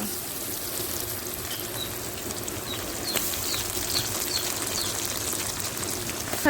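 Onions frying in a pan with cardamom, black pepper and cinnamon for a broiler chicken bhuna, a steady soft sizzle throughout with faint clicks of stirring and no talking.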